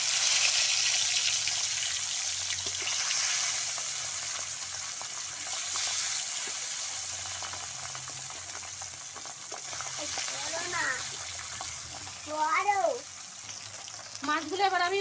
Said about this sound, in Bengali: বাকি মাছগুলো আমি ভেজে নেব।